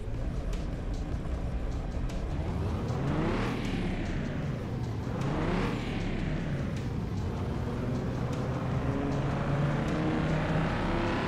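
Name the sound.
Nissan 370z engine revving in video game Car Mechanic Simulator 2021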